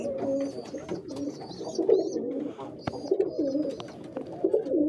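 Pigeons coo in a close, continuous series of soft, throaty rolling calls that overlap and repeat throughout, at moderate loudness.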